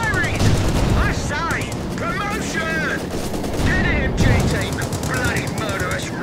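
Machine gun fire crackles in a WWII strategy video game, rapid dense bursts with explosions and battle noise running continuously under a speaker talking throughout.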